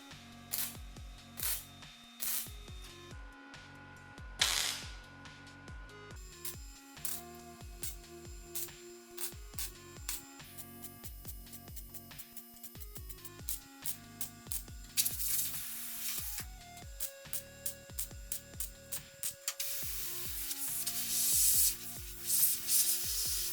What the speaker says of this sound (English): I can now weld in the outer piece that I made earlier